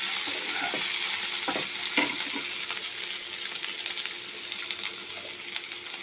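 Onion and tomato fry in hot oil in a pan while cooking prawn muittha, giving a steady close sizzle broken by occasional stirring scrapes, with no one talking.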